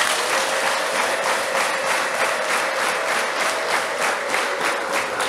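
Church congregation clapping at a service, a steady, dense round of applause holding evenly from start to finish, loud and close, with no distinct voices.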